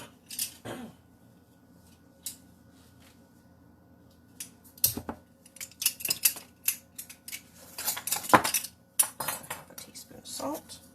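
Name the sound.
measuring spoons clinking while measuring teaspoons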